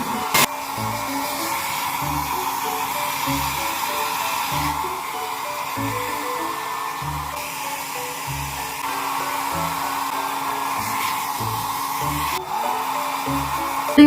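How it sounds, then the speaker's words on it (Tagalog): A hair dryer blows on freshly dyed hair, a steady close whirr that runs unbroken for the whole stretch, with rhythmic low thumping beneath it. "Ayan, tapos na nga ako maligo at magpapatuyo na ako ng buhok."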